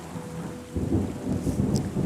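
Thunder rumbles and rain falls in the Terra Nil video game, a low steady patter swelling into a deeper rolling boom partway through, with no talking.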